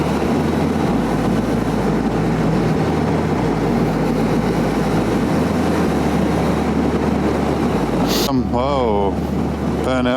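A car doing a burnout on a road near Hervey Bay, heard from a moving motorcycle: a sudden harsh screech with wavering, revving tones near the end, rising over steady wind roar and engine drone.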